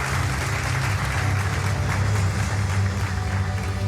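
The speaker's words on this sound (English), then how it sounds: "Ladies and gentlemen, can we have a round of applause for the bank, please?" Dense, continuous applause from a conference audience honouring City Union Bank at a banking technology awards ceremony, steady and fairly loud throughout with a low hum of room sound beneath.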